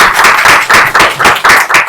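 A church congregation applauds during a Sunday worship service, a dense burst of many hands clapping in a quick, steady rhythm, loud and close, lasting about two seconds with no talk over it.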